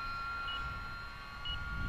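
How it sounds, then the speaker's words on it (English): An RC flight timer for an E-Flite UMX Pitts S-1S micro plane gives two short, high electronic beeps about a second apart, faint against steady outdoor wind rumble. "there's our timer"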